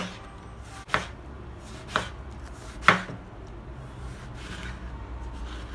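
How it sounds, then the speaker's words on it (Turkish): A few sparse, soft knife cuts against a board, thinly slicing eggplants lengthwise, spaced about a second apart, over a quiet room background. "Patlıcanlarımızı ince ince doğruyoruz uzunlamasına."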